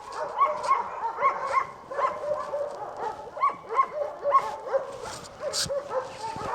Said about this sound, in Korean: 근데 여기 뭔데 저렇게 개 짖는 소리들이.